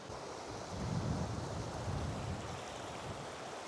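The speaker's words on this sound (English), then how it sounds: "as you can see behind me, waterfall, river, nice scenery" Steady broadband rush of a river and waterfall in wild, snowy country, a continuous roar of moving water with some wind noise, fairly even throughout and with no voices.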